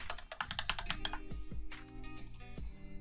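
Quick, irregular keystrokes on a computer keyboard while text is entered in After Effects, close and crisp, with a few heavier key thumps and no talking.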